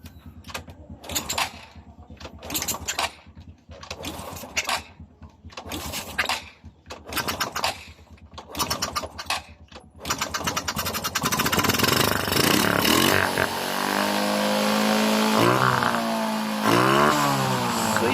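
A Honda XRM 125 motorcycle with a hard-starting carburetor problem and the choke on cranks in repeated bursts with short pauses, then catches and settles into a loud, steady idle with a couple of throttle revs, close to the microphone.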